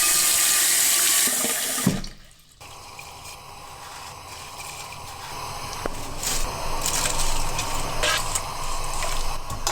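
Tap water runs into a pot to boil pasta for cacio e pepe. A loud rush first, then a brief pause, then a steady splashing stream that grows fuller as the pot fills.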